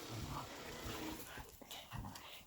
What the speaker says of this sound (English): My dogs are in here playing.